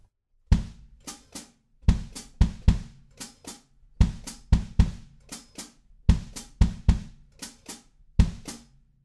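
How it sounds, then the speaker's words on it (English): Kick drum thumps and sharp hand claps alternate in a steady repeating pattern, loud and close, with no other instruments or voices. "So now we're playing the kick and hand claps"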